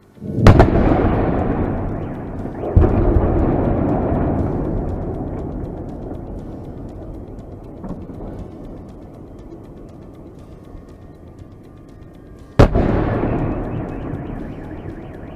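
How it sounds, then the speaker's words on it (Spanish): Explosions from the war in Ukraine: a sharp blast sets off a long, loud rumbling roar, a second bang follows shortly after, and a third sudden blast later renews the rumble. There is no speech. "quiero que veamos unas imágenes de ese conflicto en Ucrania, de una explosión que es realmente impactante"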